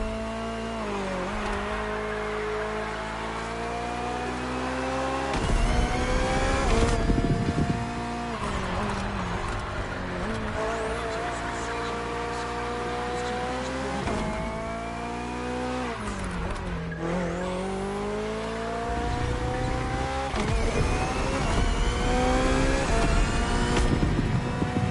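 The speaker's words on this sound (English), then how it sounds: "The Hybrid V8 will do the rest." BMW hybrid V8 race car in The Crew Motorfest, its engine roaring loud and close as it climbs through gears, with repeated shift drops, revving surges and some tire squeal, no talk.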